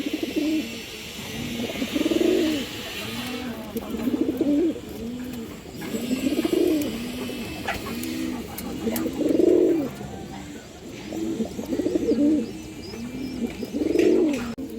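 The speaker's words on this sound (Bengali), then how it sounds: "দুই পিস চুইনা মাদি কবুতর আছে মাশাআল্লাহ" Two female Chuina pigeons coo repeatedly nearby, soft low rolling calls recurring every couple of seconds in a steady rhythm against a quiet background.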